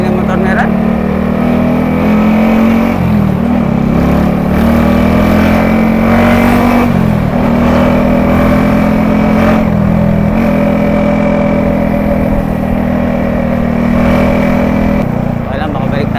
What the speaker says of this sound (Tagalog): Ingay ng motor na rin